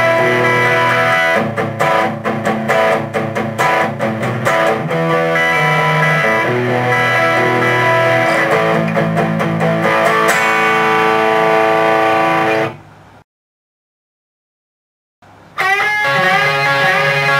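An electric guitar with effects plays a song's riff, loud and dense with chiming, sustained chords and rhythmic strums, then cuts to about two seconds of silence before resuming.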